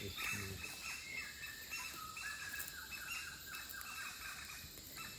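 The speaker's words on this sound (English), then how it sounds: "the birds will come out to sing" Birds singing in a tropical rainforest in Borneo, faint distant chirps and warbling calls layered over a soft background hiss of forest ambience.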